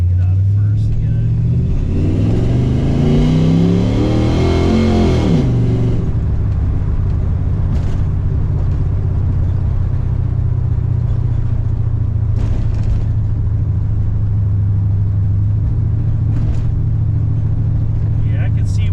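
A 340 Duster's engine revs hard in first gear while driving, climbing in pitch for a few seconds and then dropping back to a steady, loud drone that runs under the rest of the drive.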